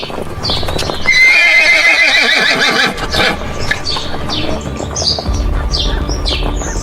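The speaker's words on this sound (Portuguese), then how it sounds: "a manada de cavalos selvagens movia-se silenciosamente como uma onda viva através do deserto" A herd of wild horses in the desert moves with steady hoofbeats, and a loud neigh rises early on. Birds chirp above the herd, which stays close and fairly loud throughout.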